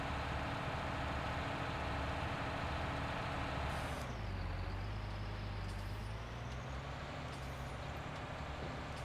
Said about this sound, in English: You'll hear the engine tone completely change there